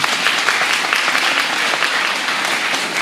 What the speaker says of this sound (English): Okay, let's give a big round of applause.